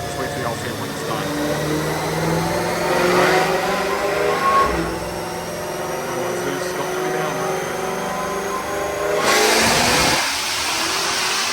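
A 1000 horsepower Ford Mustang GT500 engine revs hard on a dynamometer pull, a loud sustained mechanical roar with rising tones that swells and surges again near the end.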